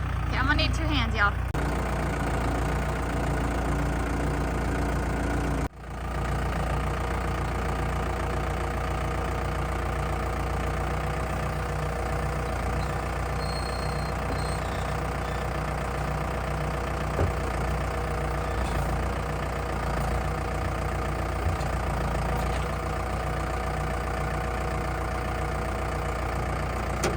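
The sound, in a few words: tractor engine idling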